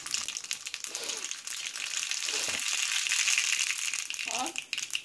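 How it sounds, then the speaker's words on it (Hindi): Mustard seeds crackle and sizzle in hot oil for a Rajasthani red chilli chutney tempering, a steady close rattle with brief dips and a few low knocks from the pan. "अब थोड़ी सी हम राई डालेंगे इसमें"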